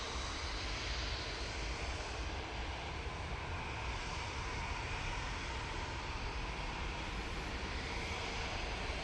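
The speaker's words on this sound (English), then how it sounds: "off to Rhodes they go in this A320neo" A steady broadband roar comes from Airbus A320neo airliner engines during departure at Manchester Airport, continuous and unvarying throughout, heard from a distance.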